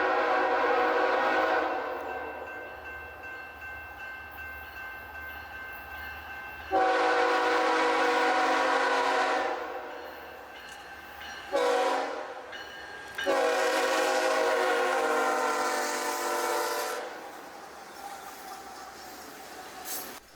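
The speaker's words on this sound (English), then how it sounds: "Here's another oil train for the Phillips 66 refinery" A BNSF freight oil train bound for the Phillips 66 refinery sounds its horn in several long, loud blasts, with pauses between them, as it rumbles past nearby at Titlow Beach.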